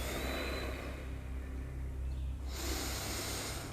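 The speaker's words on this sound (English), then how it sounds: "Big deep breaths." Slow, deep breathing through the nose, a steady airy rush of inhales and exhales close to the microphone, with no talking.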